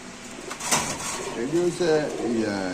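Pigeons coo at a crowded pigeon market, low burbling calls rising near the end over a steady murmur of voices and market bustle.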